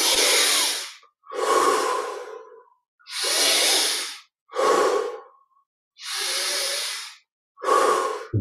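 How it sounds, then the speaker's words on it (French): Deep guided breathing during a meditation, with slow alternating inhales and exhales in long breathy pulses separated by short silences, close and clear, and no talking. "à chaque fois qu'on passe par ces respirations profondes, on améliore notre capacité à profiter de ces inspirations"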